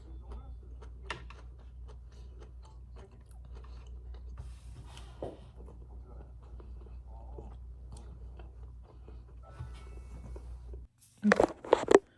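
Someone eats natto with steady soft chewing and small biting crunches, close and intimate, running for most of the stretch before a sharper burst of louder handling noise at the end.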